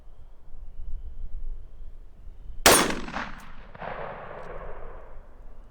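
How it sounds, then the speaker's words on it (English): A single loud rifle shot of .223 Sergeant Major Munition ammunition fired while sighting in a rifle outdoors. A sharp crack rings out and decays over a couple of seconds after quiet background noise. "we're shooting Sergeant Major Munition 223"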